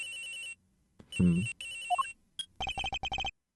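A telephone rings in the video game Ace Attorney Investigations: a clear electronic ring tone that plays in several separate bursts and ends in a quick run of rapid pulses. No one speaks over it.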